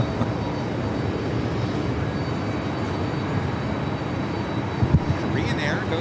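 A Korean Air jet airliner departs JFK for Tokyo Narita, its engine roar a steady wash of noise in the background while a person talks over it near the microphone.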